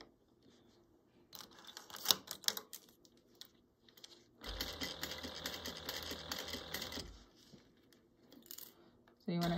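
A domestic sewing machine bastes fabric for a tomato-shaped zippered pouch at an eighth-inch seam allowance, a steady rapid stitching run of a few seconds after scattered clicks and handling noises.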